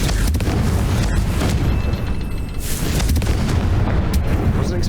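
A Confringo fire spell bursts in Hogwarts Legacy with a loud, booming blast that fills the scene, followed by a sustained rumbling roar and crackle, dense and close throughout.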